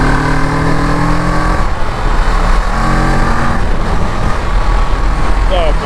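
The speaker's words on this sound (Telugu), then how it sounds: "ఒక 650cc మోటార్ సైకిల్ పికప్ చూడండి" A 2021 Kawasaki Ninja 650 BS6 (650cc) accelerates on an open morning road, its engine note climbing through two rising pulls amid wind and road noise, with a rider talking over it.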